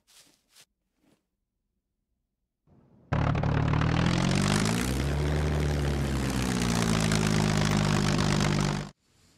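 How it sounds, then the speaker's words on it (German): A seaplane's propeller engine in the video game SCUM roars in loud and close after a few faint clicks, holding a steady, throbbing drone for about six seconds before cutting off abruptly. "Hier sollte das Flugzeug nun problemlos durchpassen."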